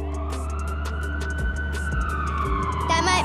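An animal ambulance siren arriving at a hospital, loud and close with a steady wailing tone that sweeps downward, over a rumbling vehicle engine.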